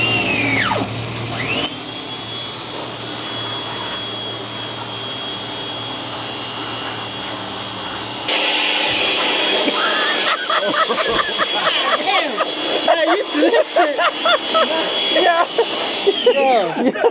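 A merch truck engine turns over and catches, settling into a steady whining idle, then revs up noticeably louder partway through while people talk over the running engine.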